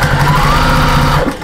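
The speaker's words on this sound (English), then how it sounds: "Just be careful you're not stitching that down in the wrong place." Sewing machine running steadily while stitching ribbon trim onto a fabric armchair sewing caddy, a close continuous mechanical whir with a rapid stitch rhythm that slows and stops near the end.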